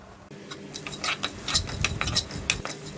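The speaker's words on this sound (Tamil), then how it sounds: "கொஞ்சமாக உப்பு சேர்த்து தேங்காய் துருவலையும் சேர்த்து நல்லா வதக்கி விட்டுக்குவோம்" Grated coconut with asafoetida and salt is stirred in a pan, heard as close, irregular scraping and clinking of a metal spoon against the pan over a faint sizzle, with no voices.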